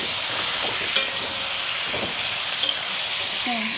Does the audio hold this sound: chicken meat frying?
yes